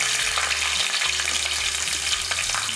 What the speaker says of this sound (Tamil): ஒரு கைப்பிடி அளவுக்கு சின்ன வெங்காயம் சேர்த்துக்கலாம்